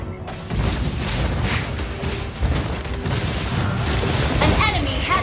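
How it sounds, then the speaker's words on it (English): A turret being destroyed in Mobile Legends gives a loud booming explosion and crash amid dense battle effects, with game announcer voices over a continuous wash of combat noise. "destroyed a turret!"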